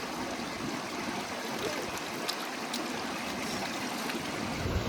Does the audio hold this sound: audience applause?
no